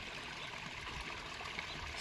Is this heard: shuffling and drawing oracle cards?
no